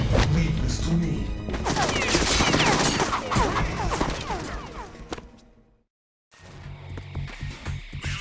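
Gunfire from the Metal Gear Solid 2 video game: a dense, loud volley of rapid shots and impacts with whooshing debris, then a brief drop to silence before more bursts and clatter resume.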